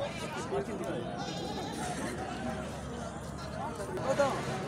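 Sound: Sindhi goat bleating at a cattle market

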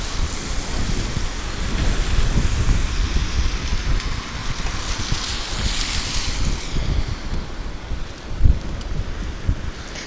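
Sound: wind on a rainy morning street

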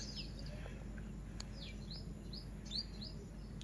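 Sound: birds chirping in a park

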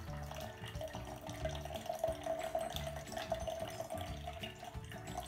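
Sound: pouring iced tea into a jar

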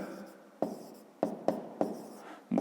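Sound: writing math on board

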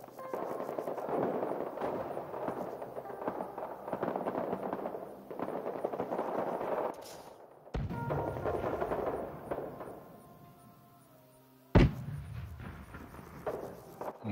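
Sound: grenade explosion and gunfire in video game Rising Storm 2: Vietnam

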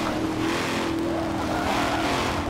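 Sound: Camaro car engine in video game

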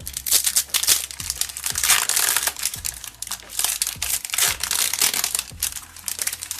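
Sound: opening a LEGO Ninjago packet

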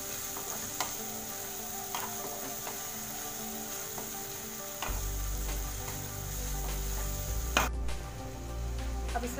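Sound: onions frying in a pan for sarson ka saag

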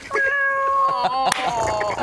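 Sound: actor imitating a cat's meow

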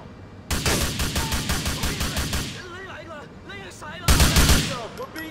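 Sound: gunfire in the video game GTA IV

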